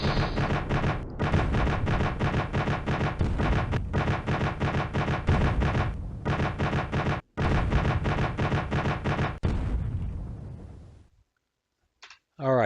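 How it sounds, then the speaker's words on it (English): Naval guns fire in the strategy game Command: Modern Air/Naval Operations, in a 1956 Red Sea engagement. Dense, rapid, rattling volleys run for about nine seconds with brief gaps, then cut to near silence. "We're being fired upon."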